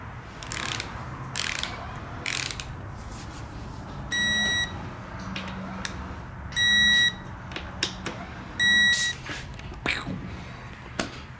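Digital torque wrench set to 12 foot-pounds on a Yamaha YZ250 dirt bike gives three short electronic beeps at regular intervals, amid ratcheting clicks and light mechanical handling.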